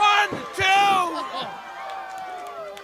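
A wrestling crowd cheers and whoops loudly at a live event, with rising shouts and yells up front that settle into ongoing crowd noise and talk.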